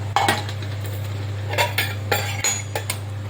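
A spoon stirs wheat flour batter with jaggery sugar in a bowl, giving irregular clinks and scrapes against the bowl over a steady low hum.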